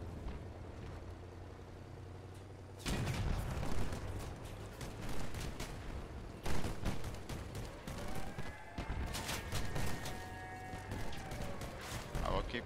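Weapons fire in the vehicle combat game Crossout arrives in loud, rapid clattering bursts with sharp repeated shots and mechanical engine noise beneath, continuing in waves over several seconds, close and dense.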